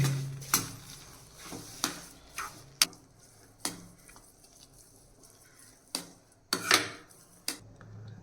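A spoon stirring sugar into carrot halwa in a pan: irregular scraping clinks and taps of utensil on metal, a dozen or so sharp hits spread across several seconds over a quiet background, with no talk.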